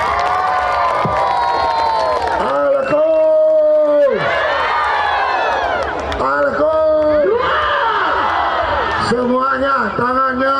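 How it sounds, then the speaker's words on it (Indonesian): Crowd cheering and shouting at an outdoor village campaign rally in Sidenreng Rappang regency, with an amplified voice calling out over the continuous noisy crowd. "Tepuk tangan semuanya."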